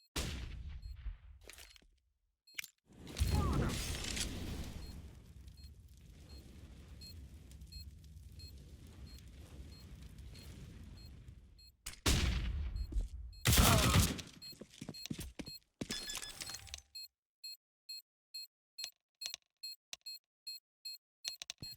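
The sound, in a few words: flashbang being thrown in a video game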